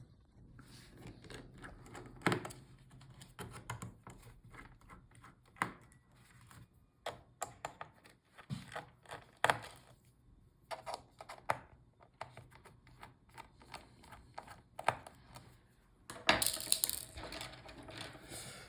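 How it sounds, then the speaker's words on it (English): Small T4 Torx screwdriver backing out the bottom screws of an HP Envy x360 laptop, with faint scattered ticks, clicks and metallic taps at an irregular pace and a sharper clatter near the end. "So we'll start with the bottom screws. You will need the T4 Torx screwdriver."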